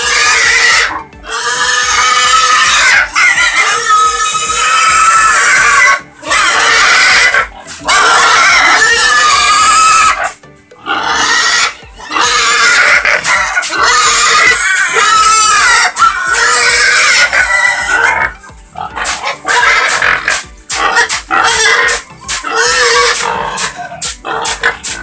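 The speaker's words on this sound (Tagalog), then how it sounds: "Daming baboy mga kaidol." Breeding pigs crowded in a farm pen grunt, oink and scream in loud, near, nearly continuous squeals with brief pauses, while a voice is faintly heard underneath.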